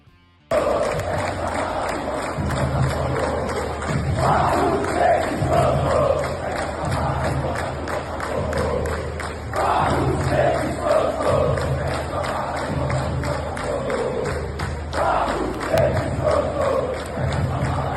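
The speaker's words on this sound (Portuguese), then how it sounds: "Vamos então com o áudio da torcida do Palmeiras, que vaiou" Palmeiras supporters in a stadium crowd during a draw with RB Bragantino, a sustained loud roar of massed voices swelling in waves, likely booing, continuous throughout with rising surges.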